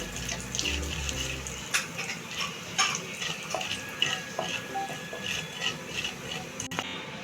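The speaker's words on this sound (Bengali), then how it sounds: "ফোড়নটা আমি পাঁচ সেকেন্ডের মতো ভেজে নিচ্ছি" Black cumin seeds sizzling in hot oil in a pan, a continuous close hiss and crackle with small pops and a few clinks of a utensil.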